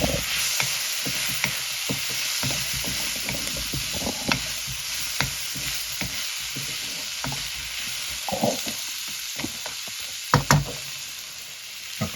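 Chopped tomato frying with ginger and garlic for a South Indian calamari dish, a steady soft sizzle under scattered knocks and scrapes of stirring, no voices.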